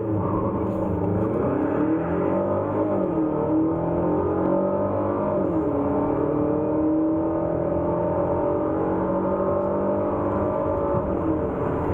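A Renault Samsung SM6 2.0 GDe engine revs hard and loud under hard acceleration, its pitch climbing steadily, with brief dips as gears shift before it rises again.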